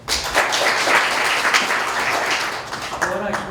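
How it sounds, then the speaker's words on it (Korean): Audience applause at a civic forum's general meeting electing a new standing representative, welcoming a candidate to speak; dense, steady clapping fills the room for several seconds before fading as voices begin. "박수로 맞으시기 바랍니다."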